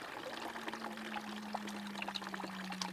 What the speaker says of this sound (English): we've got the water coming down the gutter, and here's being diverted into the bucket